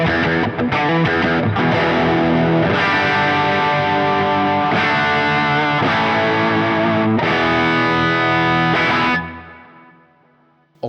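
Distorted electric guitar through a Quad Cortex preset, a loud, saturated chordal riff with chorus shimmer and rhythmic changes, playing alone before fading out over the last seconds.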